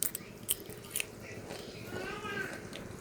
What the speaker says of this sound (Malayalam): എന്താ കടിക്കണ സ്വരം കേട്ടാ.